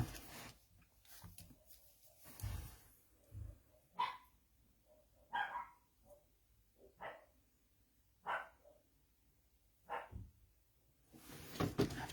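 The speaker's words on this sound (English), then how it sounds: "the dogs bark if there's somebody at the door" Several dogs barking at someone at the door of a house, a handful of sharp, separate barks spread out with pauses, fairly distant and moderately loud, with no talk over them.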